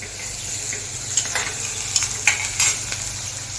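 Onions sizzle steadily in a pan with oil for a Marathi vegetable dish, close and clear, and a spoon stirring through them adds several soft scraping bursts.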